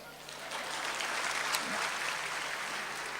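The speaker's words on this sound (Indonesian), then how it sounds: "Tepuk tangan dulu." Audience applause at a church sermon, a steady broadband patter of clapping lasting the full few seconds at moderate loudness with a faint voice in the background.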